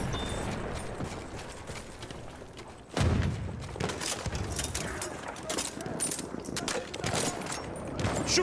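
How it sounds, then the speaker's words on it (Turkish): A thrown bomb explodes in Battlefield 1, a sudden loud blast followed by crackling gunfire and battlefield clatter, with faint voices in the background. "Bomba atıyorum"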